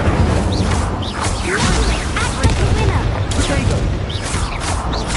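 Incendio fire spell cast during a duel in the video game Hogwarts Legacy, a dense burst of whooshing and crackling blasts mixed with game music and effects, with voices calling out under the noise.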